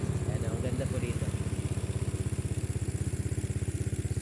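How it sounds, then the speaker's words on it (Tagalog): A motorcycle rides near Taal in Nasugbu, its engine putting out a fast steady putter that stays close and even throughout. "Kaya naisip ko rin magmotor at mag-ikot-ikot dito banda."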